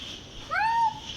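Cats meow in a short, close, fairly loud call with a rising then falling pitch, heard alone after a crossing at an animal airport where the cats are in poor condition and need a wash.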